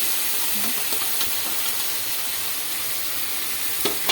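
Chicken pieces added to hot oil in a home kitchen, giving a steady, fairly quiet broadband sizzle throughout, with a few soft clinks and stirring taps and no talk.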